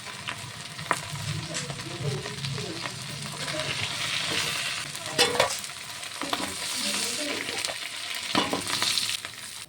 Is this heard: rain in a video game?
no